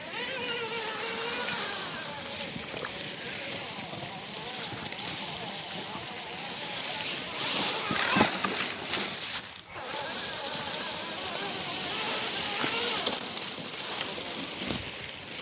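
An RC Traxxas Jeep churns through a creek with a whining electric motor, splashing water and crunching over rocks, at moderate distance and with occasional voices.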